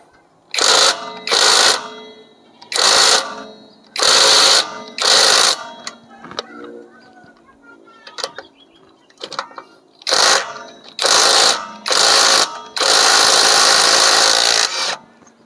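An OSUKA OSID-520 cordless impact wrench tightening, with repeated loud rattling hammering bursts of about half a second each, a pause between the groups and a longer continuous burst at the end, alone and close.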